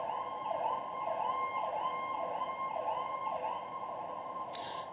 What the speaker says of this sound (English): Yeah, see the sirens?